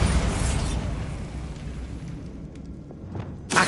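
In Hogwarts Legacy, a Bombarda spell blast opens with a loud, rumbling explosion that decays over several seconds. Faint debris clatters afterward, and a sharp second burst hits near the end.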